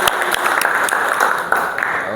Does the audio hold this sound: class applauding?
yes